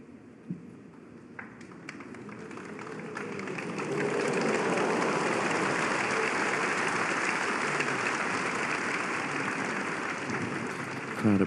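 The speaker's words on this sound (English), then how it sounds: "Crowd appreciating that safety from Judd Trump" Snooker crowd at the Shanghai Masters applauding a safety shot, a sustained wash of clapping that swells after a few scattered early claps and holds steady and fairly loud to the end.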